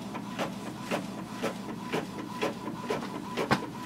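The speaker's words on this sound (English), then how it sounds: "And now I press the print button on the mobile and I'll wait for the printer to start the printer." An Epson XP 4100 inkjet printer starts a job with a series of regular mechanical clicks and rasping carriage strokes, roughly twice a second, close and moderately loud over a steady motor hum.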